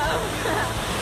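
A waterfall on an Oregon hiking trail, a loud broad continuous roar of rushing water filling the clip, with voices faintly mixed in.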